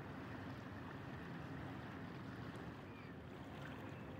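Fast-flowing river swollen after heavy rain in Newbury, heard as a continuous rushing wash of water, faint and steady with some wind noise on the microphone.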